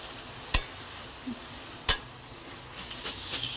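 Food with turmeric fries softly in a pan under a low steady sizzle, broken by two sharp metallic clinks of a spoon against the pan.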